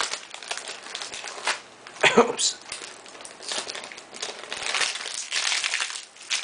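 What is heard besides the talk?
tearing open 2017 Topps Update baseball card packs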